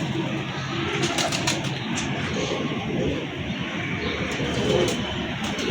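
A pet pigeon that has caught a cold coos softly and repeatedly, its low calls set against a faint, continuous background murmur with no talk.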